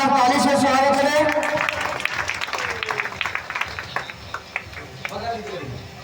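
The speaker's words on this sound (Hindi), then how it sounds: "इन दोनों समझी साहब के लिए एक बार जोरदार ताली से स्वागत करें।" Loud applause welcomes guests at a Hindu wedding jaimala ceremony. Clapping starts under a voice, then breaks into scattered, uneven claps that fade toward the end.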